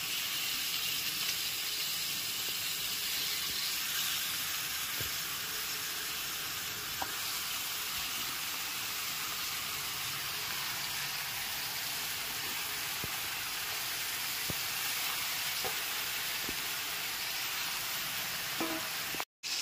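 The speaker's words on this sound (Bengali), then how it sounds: "এইবার ম্যারিনেট করা মাংসটাকে দিয়ে দিচ্ছি।" Marinated meat fries with onion and ginger-garlic paste in a steady, even sizzle, with occasional faint ticks of stirring, before it cuts off abruptly at the end.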